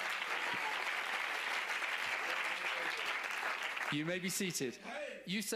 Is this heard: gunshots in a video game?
no